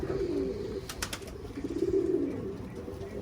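Pigeons let out into the open air coo in low, repeated rolling calls, close and clear over a soft outdoor background, with a brief higher chirp or flutter midway.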